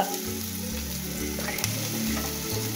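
Mutton sautéing in a pot for Hunza chapsy dawdoo soup, with garlic and ginger going in, gives a steady close sizzle. Low-pitched pulses and scraping run underneath it, and no one speaks.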